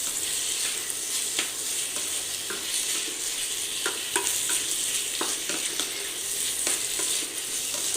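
Spices fry with turmeric for lentil dal, a steady close sizzle with intermittent scraping stirs against the pan, no one talking.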